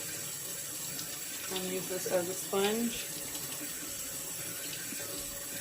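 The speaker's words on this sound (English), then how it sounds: "So just turn on the cold water" Cold water runs steadily from a kitchen tap as oxtails soaked in vinegar and lime juice are rinsed, a broadband splashing hiss throughout with a brief louder gush midway and a voice talking over it.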